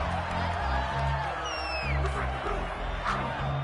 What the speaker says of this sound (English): you won't hear any boos from this home crowd on that call